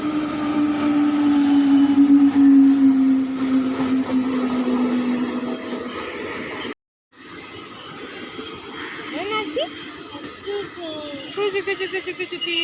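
A train rumbles past with a steady low drone that fades out, followed by quieter background noise; people talk over it and a voice imitates the chugging of the train.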